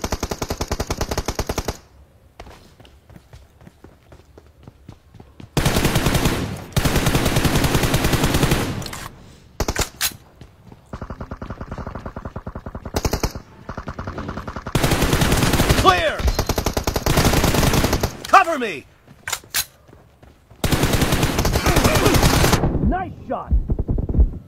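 Bursts of automatic gunfire in a mobile shooter's 2v2 team deathmatch, loud machine-gun volleys broken by short pauses, with a player talking excitedly over the shooting.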